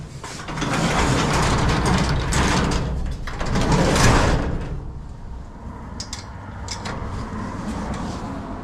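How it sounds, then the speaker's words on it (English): A residential garage door runs closed with a long, steady mechanical rumble and rattle, close by, then stops, leaving quieter background noise and a few faint clicks. "is I can close the garage door."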